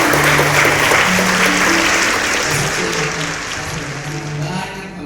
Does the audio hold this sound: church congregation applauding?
yes